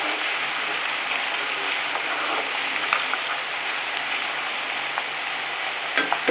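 Chopped raw Thothapuri mango pieces frying in a pan with garlic for mango gojju: a steady, close, even sizzle throughout with a few faint clicks and stirring taps, no voices.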